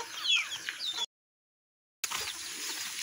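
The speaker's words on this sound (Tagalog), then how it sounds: "Daming manok." Chickens clucking on a rural Philippine farm, a few soft, bright calls over outdoor ambience, broken by a full second of silence before the yard noise resumes.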